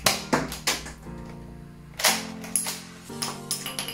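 A Nerf The Judge blaster is worked and fired, giving a series of loud, sharp plastic snaps and clacks with short mechanical rattles between them. The sounds are close and irregularly spaced, and nobody speaks.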